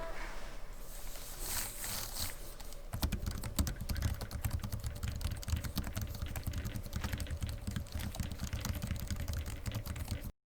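Fast, steady typing on the Razer Book 13 laptop keyboard with clicky 63g switches, dense close key clatter running continuously under a faint background hum, no talking.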